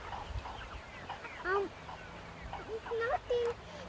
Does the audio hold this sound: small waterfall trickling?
no